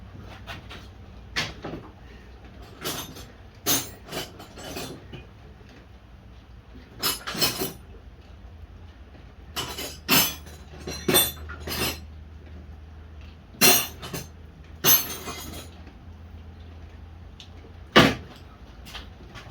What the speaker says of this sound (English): You ever go to a toolbox and you grab every wrench except for the one you're looking for?